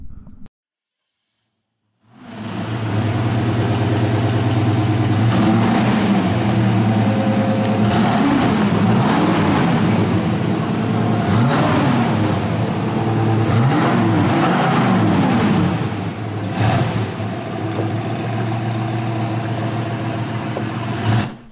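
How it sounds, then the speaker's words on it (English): A 1970 Chevrolet El Camino V8 starts and revs loudly up close, with a deep rumbling idle broken by repeated throttle blips and swells over about twenty seconds. "Now let's take a listen to this V8 power."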